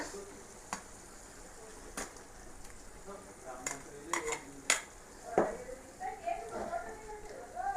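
Biryani masala fries in oil in a pan for chicken biryani, with a low sizzle beneath sharp clinks and scrapes of a spoon stirring against the pan, while someone talks over it.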